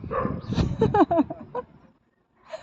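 A mother dog with puppies gives a few short, close yipping barks in quick succession, then falls silent before one faint final yelp.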